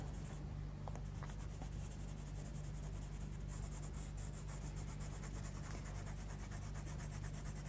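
A Derwent Coloursoft coloured pencil drawing on black paper, a soft continuous scratchy rubbing of rapid back-and-forth strokes, very close and quiet with no voices.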